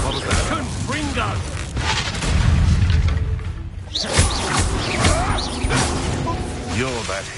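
Fiery blasting spells burst in Hogwarts Legacy combat, with repeated booms, whooshes and crackling impacts layered over a dense mix of battle effects, close and loud, while characters' voices are heard around them.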